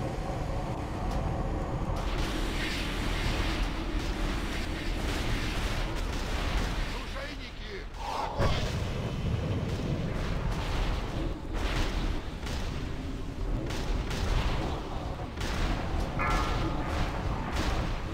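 Repeated booming cannon blasts on a ship in a video game amid a chaotic battle din, with people talking over the noise throughout.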